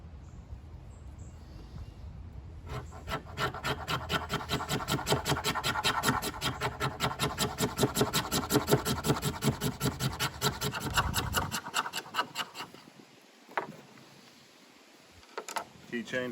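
Close, repeated scraping of fatwood with a ferro rod scraper, raising resinous scrapings for fire starting: a fast, steady rasping rhythm lasting about nine seconds, then a few scattered scrapes and faint handling sounds.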